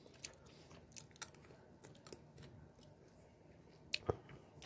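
Slightly cooled odeng fishcake is chewed close up in a quiet room, soft wet squishing bites with a few sharper crunchy clicks near the end, no talking.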